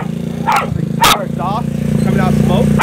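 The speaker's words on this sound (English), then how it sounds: "This dog really likes the scooter. For some reason, he likes to chase it." A dog barks in short sharp bursts, two loud yelps standing out, over the steady idle of a GY6 scooter engine running close by, with a person talking through the clip.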